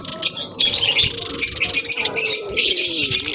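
Pet birds chirp and squawk loudly up close in short, agitated bursts while being caught by hand, with some coo-like calls mixed in.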